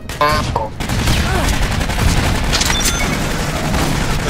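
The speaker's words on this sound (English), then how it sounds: "Turret set and ready for action." Turret gunfire in the Aliens: Colonial Marines video game, a dense, continuous barrage of rapid shots with booming low rumble, plus a few brief electronic tones and creature shrieks mixed in.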